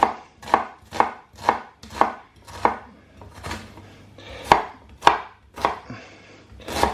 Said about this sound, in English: dicing our onions